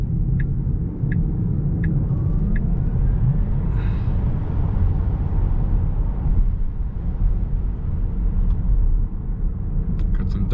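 A 2024 Tesla Model 3 Performance, EU spec, drives fast through corners, giving a steady loud low road and tire rumble with no voices.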